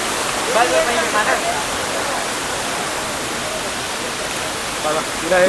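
The Ranajilleda waterfall gives off a loud, continuous roar of falling water close by, with faint voices barely audible under the rush.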